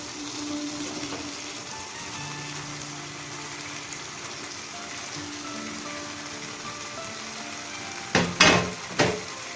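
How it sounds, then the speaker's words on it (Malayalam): Fried chicken wings dropped into thickened, simmering masala gravy in a home kitchen: a steady soft sizzle and bubbling throughout, then a few loud splattering bursts near the end. "ഈ ചാറൊന്ന് കുറുകി എണ്ണ തെളിഞ്ഞു വരുമ്പോൾ നമുക്കതിലേക്ക് ഫ്രൈ ചെയ്ത് വെച്ചിരിക്കുന്ന ചിക്കൻ വിങ്സ് ഇട്ട് കൊടുക്കാം."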